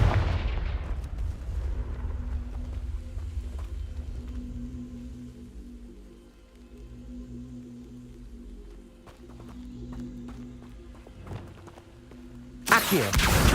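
Spell effects from the video game Hogwarts Legacy rumble and boom in low, heavy blasts over a droning backdrop, with scattered impacts and a sharp burst near the end.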